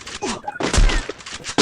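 Gunfire in the Free Fire video game comes in short, loud bursts of shots, mixed with a player's voice talking over the action.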